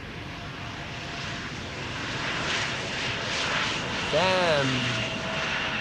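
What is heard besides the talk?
Boeing 777 freighter approaching runway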